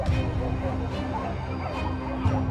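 Hunting dogs bark, yip and whimper while chasing a wild boar through thick bushes, several excited calls in quick bursts over a steady, noisy outdoor background.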